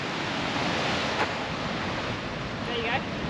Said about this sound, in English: the coolest thing so far is watching waves crash into rocks